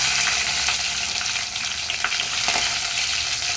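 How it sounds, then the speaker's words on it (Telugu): Dried red chillies frying in hot tempering oil for a toor dal, cabbage and tomato curry: a loud, dense, steady sizzle and crackle filling the whole moment, with no voices. "పోపు దించిన తర్వాత ఎండుమిర్చి"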